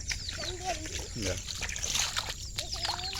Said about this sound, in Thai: โอ้ดูน้ำไหลคือกัน